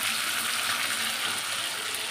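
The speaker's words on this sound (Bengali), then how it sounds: "চিংড়ি ভাজা হচ্ছে" Prawns fry in hot oil in a pan, a loud continuous close sizzle with a bright crackling hiss and no talking over it.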